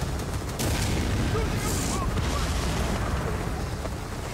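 A custom tier 4 plasma gun firing in Firefall, booming shots blending into a dense, steady roar of game noise.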